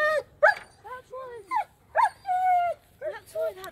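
A dog with mange whimpers and lets out short yips and whining barks in a series of separate, close cries, some drawn out, with brief pauses between them.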